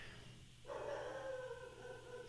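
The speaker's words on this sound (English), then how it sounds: "it wouldn't be a podcast without Barkley barking" Barkley the dog lets out a single drawn-out, howling bark that starts abruptly and trails off over a low background hum, faint and slightly distant.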